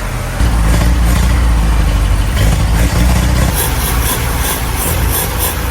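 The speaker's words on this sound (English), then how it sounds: "this 80-year-old engine finally roared back to life" A loud 80-year-old engine of a restored 1942 Willys Jeep runs steadily with a deep rumbling idle, continuous throughout with a slight shift in tone partway through.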